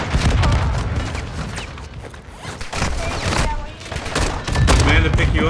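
Gunfire in a video game, rapid bursts and volleys of shots crackling at varying distances, loud and dense, with a radio-style voice speaking over parts of it.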